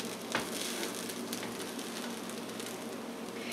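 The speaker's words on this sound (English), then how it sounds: "So on my frying pan, it takes me about a minute per side." Paleo pumpkin pancakes sizzle quietly in a frying pan, a faint steady crackle with a small tap near the start and no talking.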